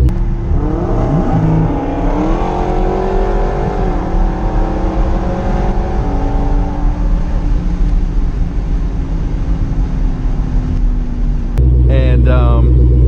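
A Dodge Hellcat Challenger engine, loud and close, droning and rising in pitch as it revs and accelerates, with a sharp shift in tone near the end.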